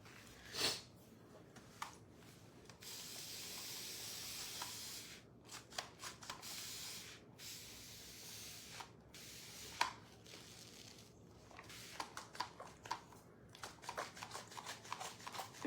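Ink is sprayed through a silk screen onto a door mat in bursts, with a long steady hiss followed by shorter, choppier sprays mixed with light rubbing and handling noises, all fairly quiet and close.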